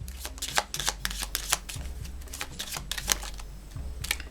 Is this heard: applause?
no